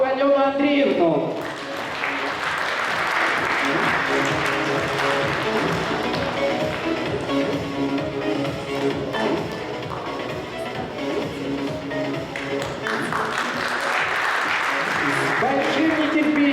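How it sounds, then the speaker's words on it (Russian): Sustained applause at a youth volunteer forum in a university hall, dense clapping running throughout, with music and voices mixed in beneath it and rising again toward the end. "Аплодисменты не прекращаются."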